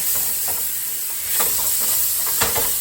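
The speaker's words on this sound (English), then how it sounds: "I just went ahead and put a little bit of oil in the skillet, and we're just gonna take our shrimp and dump it in there." Shrimp sizzle in a little oil in a hot skillet, a steady close hiss with a few brief clinks and stirring scrapes rising over it, and no voices.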